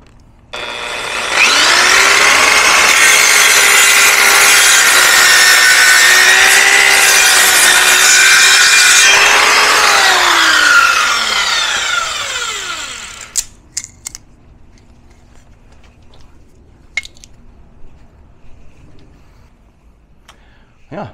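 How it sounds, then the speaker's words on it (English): A wooden board is sawn with a power saw running off a DIY solar generator, giving a loud, sustained whining cut of about ten seconds that winds down, followed by scattered knocks and clatter in a quieter room. "Of course we should try to cut a board, right?"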